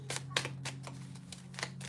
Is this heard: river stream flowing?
no